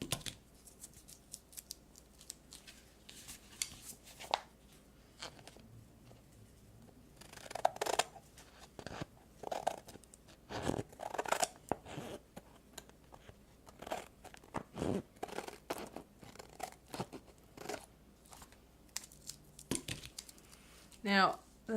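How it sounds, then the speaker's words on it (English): Scissors snip through paper in a series of crisp, irregular cuts, close by, with quiet pauses between bursts. "I'm gonna find my good scissors. I'm gonna cut really close to the edge here."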